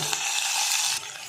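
Onion frying in hot oil with ginger-garlic paste in a home kitchen, giving a steady close sizzle with a stirring scrape, no voices, easing slightly near the end.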